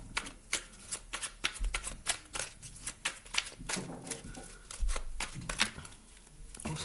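Numerology cards being shuffled by hand for a reading, a close, crisp run of rapid riffling slaps and flutters repeating in quick bursts, with no voice.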